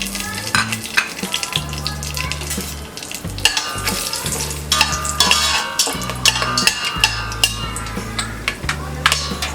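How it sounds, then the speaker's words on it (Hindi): Whole spices sizzle in two tablespoons of hot oil in a pan while aloo pulao is being cooked. The frying hiss is loud and continuous, with occasional stirring clinks and a steady low tonal hum underneath. "2 टेबलस्पून ऑयल डाल लिया है। इसमें सारे खड़े मसाले डालेंगे।"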